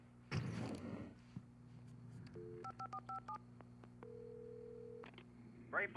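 A telephone in the Alan Wake Remastered video game, in the sheriff station setting, sounds a quick series of dialing tones followed by a steady dial tone, faint and close, after a brief rustle.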